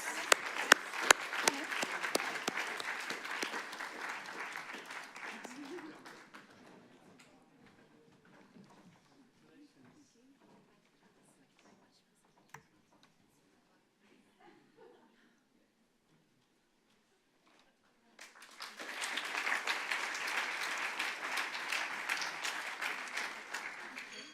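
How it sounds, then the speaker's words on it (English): Audience applause at a conference closing session fills the first six seconds, fades to near silence, then returns strongly near the end; the clapping is steady and sounds like a crowded hall. "Let's give a good round of applause."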